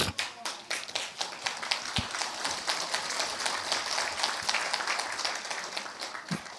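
Audience applause at a Korean political talk on martial law and election fraud, a steady dense patter of many hands clapping across the whole stretch, moderately loud, with faint voices beneath.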